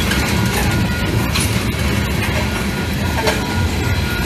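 A train rolls along the rails after uncoupling at a country road crossing, a steady close rumble and clatter of wheels with no horn, loud and continuous throughout.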